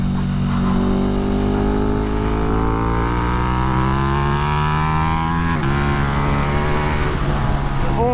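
2020 KTM 1290 Super Duke R engine pinned at full throttle in fifth gear on a track, a loud, close, continuous rising roar with the revs climbing steadily, then a brief gearshift dip near the end.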